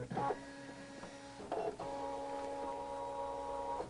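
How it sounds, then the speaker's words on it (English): A Brother ScanNCut cutting machine makes a test cut for heart magnets, producing a close, quiet motorized whine with steady tones, a short clunk and shift partway through, then continuous humming movement. "I'm going to say cut, and now the machine will automatically stop after that test cut"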